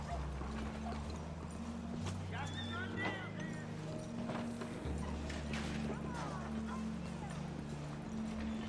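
A horse in the western video game WildRP clip-clops with steady hoofbeats and lets out a whinny, close and moderately loud, with faint mechanical creaks underneath.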